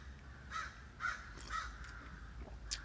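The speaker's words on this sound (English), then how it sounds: "My birds are coming in." Crows cawing in a backyard with bird feeders, three or four harsh calls spaced about half a second apart, fairly distant and faint over a low outdoor rumble.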